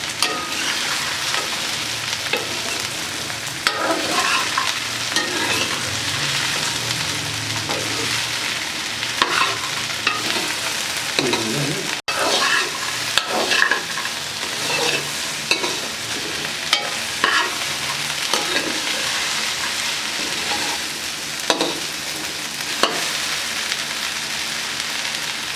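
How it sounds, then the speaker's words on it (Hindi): Okra (bhindi) frying in a pan: a continuous oily sizzle with intermittent stirring scrapes and clinks as the pieces are turned, close and fairly loud, no talking. "भिंडी को अच्छे तरीके से फ्राई करेंगे।"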